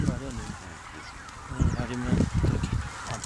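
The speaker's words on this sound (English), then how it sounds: "Only bean geese were caught." Bean geese honking in a flock, repeated nasal calls growing louder and overlapping in the latter half, fairly close.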